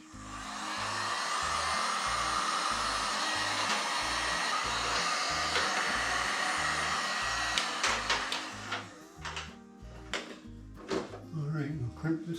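A heat gun warms air line crimp fittings in a shop, blowing a loud steady whirring roar that cuts off partway through, followed by small clicks and handling noises of the fittings.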